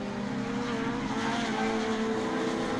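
Honda VTEC Challenge race cars lapping the Donington circuit, a sustained high-revving engine drone with layered tones from several cars, steady and fairly loud with no voices.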